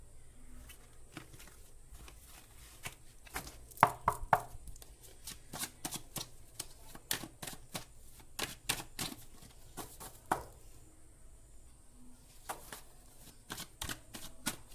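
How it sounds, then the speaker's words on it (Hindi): Tarot cards being shuffled by hand, a run of quick dry riffling clicks and soft snaps that come in bursts with brief pauses, close and fairly quiet, with no voice over them. "मैं पहले शफल कर लेती हूँ।"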